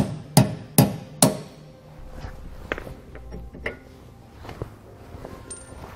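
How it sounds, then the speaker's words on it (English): Hammer striking a bolt to drive it out of a Dexter heavy-duty trailer suspension: three sharp metallic blows in quick succession, then lighter scattered taps and clanks close by. "Now we can tap our bolt out."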